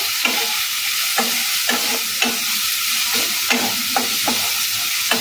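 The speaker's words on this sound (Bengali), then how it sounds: "একটু ভালো করে আগে নেড়ে নেব।" Chicken pieces seasoned with chili powder and chili flakes are stirred in a frying pan for tomato pasta. A spatula scrapes in a steady rhythm of repeated strokes over a constant close sizzle.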